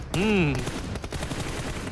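Gunfire in the mobile battle royale game PUBG Mobile during a competitive esports match: a brief voiced sweep opens, followed by a rapid, rough clatter of shots that carries steadily at moderate volume to the end.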